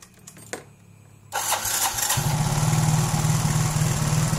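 A Yamaha Mio scooter engine starts with a brief cranking rattle, catches and then settles into a steady, loud idle that carries to the end, heard close up with no talking.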